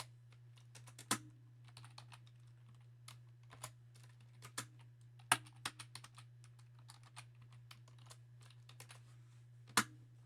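Faint, irregular key presses on a computer keyboard as a name and values are entered into a calculator page, scattered clicks with a few sharper taps over a steady low hum, no talk.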